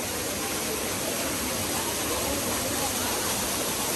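Kallathagiri Falls in Chikmagalur, Karnataka, pours in a steady, loud broadband roar of falling water, close and unbroken throughout with no other sounds standing out.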